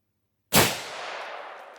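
A single loud shot from a TC Venture rifle in .243 Winchester firing 80-grain Hornady Superformance GMX ammunition cracks sharply after a moment of silence, then rolls off in a long, fading echo outdoors.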